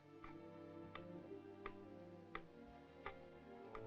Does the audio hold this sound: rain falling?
no